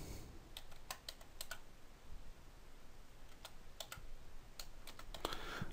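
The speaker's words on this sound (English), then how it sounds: "You can type in one of the feature names in your license file," A feature name is typed on a computer keyboard in a faint, close run of separate key clicks arriving in small irregular clusters, with a quiet room hum underneath.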